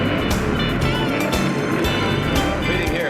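Loud, continuous engine roar from top stock drag racing cars at the NHRA U.S. Nationals semifinals in the 1960s, dense and rough with surging pulses, captured on old film audio.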